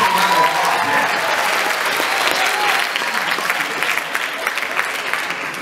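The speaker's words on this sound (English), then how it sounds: "Let's give a round of applause." An audience at a live piano performance applauds warmly for a volunteer brought on stage, with steady clapping that fades slightly toward the end.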